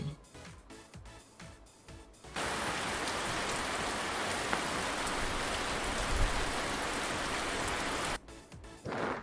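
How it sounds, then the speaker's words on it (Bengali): Heavy rain pours down in a dense, even hiss that starts abruptly after about two seconds, holds steady and loud, then cuts off near the end. "ছাতা মাথায় বৃষ্টি পড়ে"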